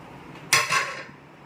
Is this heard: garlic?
yes